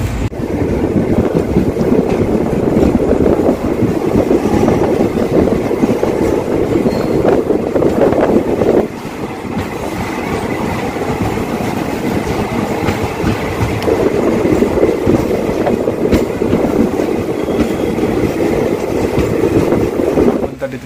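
The Mysore–Kacheguda superfast express rumbles loudly and steadily through a station stop, carriage wheels clattering over the rails with a continuous heavy roar that briefly dips before swelling again.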